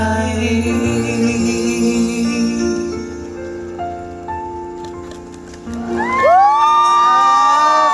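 A concert audience cheers and applauds as a special duet ends, with music tones fading out before shrill whoops and cheering swell loudly near the end.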